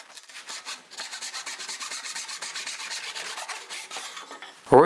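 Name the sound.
hand plane squaring wood workpiece on shooting board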